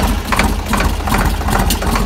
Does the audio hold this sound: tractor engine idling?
yes